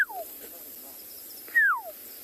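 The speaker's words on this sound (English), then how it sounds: "That's the call of the bird that you might be able to recognize." Two clear descending bird whistles, a short one at the start and a louder sweeping one after a pause, heard alone against quiet background in the South African bush during a morning safari.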